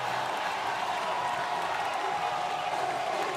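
Stadium crowd at an Oklahoma Sooners home football game against Michigan, a dense, steady roar of cheering and clapping that fills the space evenly without letting up.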